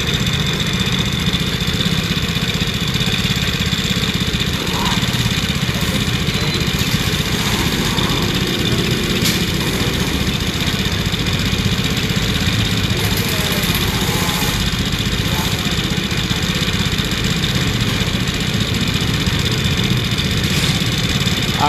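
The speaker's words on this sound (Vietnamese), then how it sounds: "Đây thì tiếng máy này, bạn nhìn thấy rõ này." A Piaggio Liberty scooter engine with a lean air-fuel mixture and an ECM fault that makes it stall suddenly runs at a steady idle, a continuous close mechanical drone with no change in pace.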